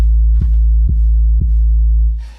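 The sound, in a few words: 808 bass preset "808 Narcos" in Octane VST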